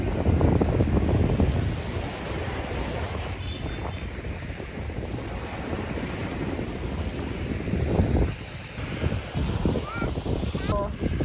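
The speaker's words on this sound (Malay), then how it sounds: "tengok laut, dengar bunyi ombak, rasakan angin-anginnya" Sea waves wash onto a beach at Dungun while strong wind buffets the microphone, a steady broadband roar lasting throughout with brief surges near the end.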